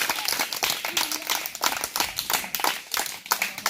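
A church congregation applauds for Jesus with steady, lively clapping from many hands throughout, close and full, with no voices over it.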